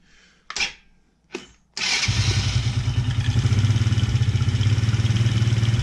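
A TaoTao 125 engine on choke cranks twice in short bursts, then fires and settles into a loud, steady, rapid idle close by, with no voices.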